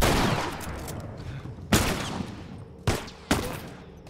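Heavy gunfire in The Last of Us Part II, with a dense early burst of shots followed by three loud, sharp blasts spaced apart, close and forceful over a rumbling game background.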